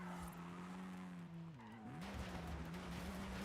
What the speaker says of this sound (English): This is such a fun little car to drive.